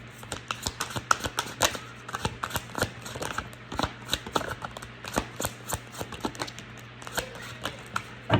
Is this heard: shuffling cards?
yes